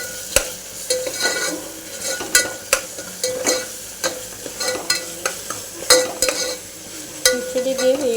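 Ginger paste frying in a pan for chicken curry, stirred with a utensil that scrapes and taps the pan in frequent irregular strokes over a continuous close sizzle, with no voices.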